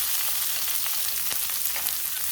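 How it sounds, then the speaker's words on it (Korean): Cucumber stir-fried in an oiled pan over high heat gives a steady, dense sizzle that runs unbroken throughout, with faint clinks of stirring and no talking. "팬에 기름을 좀 두르고요. 불을 좀 세게 합니다. 세게 해가지고 오이를 볶아줍니다"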